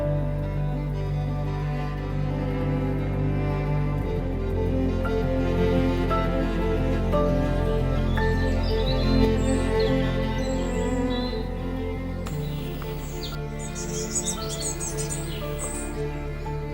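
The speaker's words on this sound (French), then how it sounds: "Mouettes, passereaux et oiseaux d'eau entament la longue chorégraphie visuelle et sonore" Gulls, small songbirds and water birds call in spring in a wild setting, with scattered chirps and calls over a steady musical backdrop, joined by a denser burst of bird calls toward the end.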